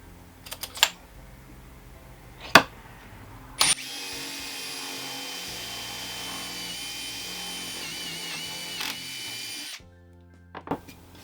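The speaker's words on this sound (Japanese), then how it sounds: "一応中央に穴を開けます。" A power drill bores a hole through the center of a jigsaw base, whining steadily for about six seconds, with scattered clicks and knocks of handling before and after.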